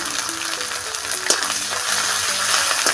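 Ginger and whole chillies frying in hot oil for a Bengali curry, a loud, dense sizzle close up with a brief clink of a utensil.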